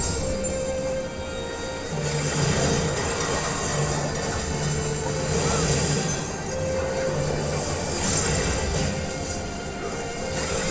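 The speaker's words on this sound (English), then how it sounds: "Okay, the train comes out." Train arriving in the Final Fantasy XIV dungeon The Tower at Paradigm's Breach, a steady loud rumble of rolling rail cars with metallic wheel squeals and tonal screeches throughout, no voices.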